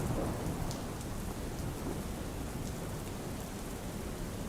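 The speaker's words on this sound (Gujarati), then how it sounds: "બારડોલીમાં ધોધમાર વરસાદ ખાબક્યો" Heavy monsoon rain pours down steadily in Bardoli, Surat district, India, a dense roar of drops on surfaces with no voices.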